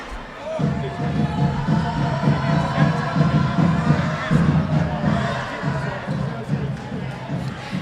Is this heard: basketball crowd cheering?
yes